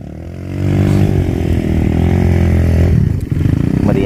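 A motorcycle engine on a mountain trail in Benguet revs hard and loud at close range, a sustained growling roar that dips briefly and then picks back up.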